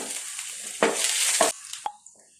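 Mustard seeds, curry leaves and ginger hit hot sesame oil for a mussel pickle, bursting into a loud hiss that swells in two strong surges and then thins to a few crackles and pops before fading.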